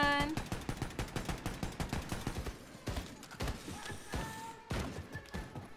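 Rapid machine gun fire from Wolfenstein II: The New Colossus on Switch rattles in a long, rhythmic burst of close, loud shots, then breaks into scattered bursts and thumps, with no talking.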